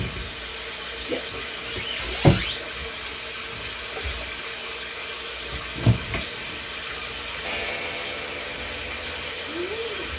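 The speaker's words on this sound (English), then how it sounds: "Let me get the water warming up." Water runs from a kitchen tap in a steady, continuous hiss, with a few faint clinks and knocks scattered throughout.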